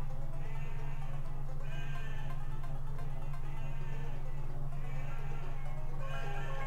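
Sheep bleat in repeated loud calls, several overlapping cries at a steady rhythm over a constant low hum, close and clear, with no talking.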